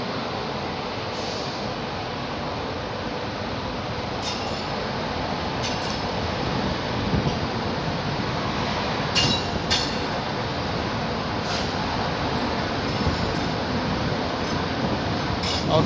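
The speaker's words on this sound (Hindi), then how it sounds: "तो दोस्तों कुरुक्षेत्र से अपने ट्रेन का डिपार्चर होते हुए" Ekta Express train pulling out of Kurukshetra Junction station, a steady rumbling roll with faint clinks and brief squeals, building slightly as it departs.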